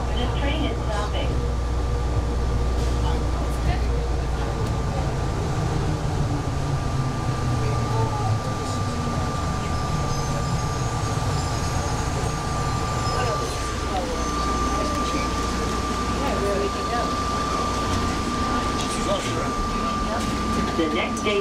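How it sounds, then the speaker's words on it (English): Hartsfield-Jackson Atlanta Airport people mover train braking to a stop between concourse stations, with a steady close rumble, a thin sustained whine, and a faint voice in the background. "Please hold on. This train is stopping."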